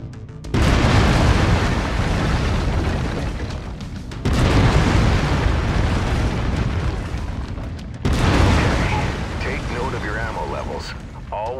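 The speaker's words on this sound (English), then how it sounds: "I've mapped the autocannon to Weapon Group 1. You're free to fire whenever you're ready." Heavy autocannon fire from a mech in the Mechwarrior 5: Mercenaries video game, three loud sustained bursts of booming, rumbling shots back to back, each lasting several seconds with brief breaks between.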